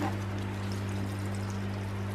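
Extra water is poured onto plants on a warm day. It makes a steady, continuous rushing flow over a constant low hum, with no talking.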